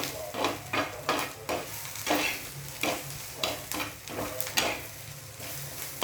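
Onion frying in a pan until golden brown, with a steady sizzle and repeated rhythmic scraping strokes of a spoon stirring it, close and fairly loud.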